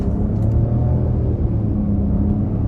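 The turbocharged three-cylinder engine of a 2023 Nissan Rogue S AWD pulling at half throttle, a steady loud low rumble with a faint hum over it.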